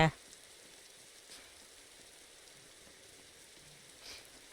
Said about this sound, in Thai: เนี่ยฝนตกแล้วไม้เปลี่ยนสีแก